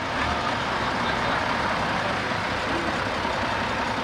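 A Scammell Unipower heavy haulage lorry rolls past at a transport festival, a loud, steady broadband engine roar that holds throughout without letting up.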